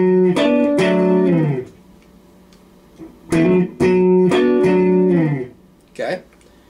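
Electric guitar chords from a song: a few bright strummed downstrokes, each sliding away and ringing out, with short gaps and a softer stroke at the end, close and clear.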